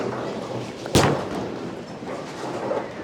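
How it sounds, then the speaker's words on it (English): A Purple Hammer urethane bowling ball is released on a typical house shot at May City Bowl. It hits the lane with a single dull thud, then rolls away in a soft rumble under the general alley noise. "Now we're going to throw purple hammer from the same spot"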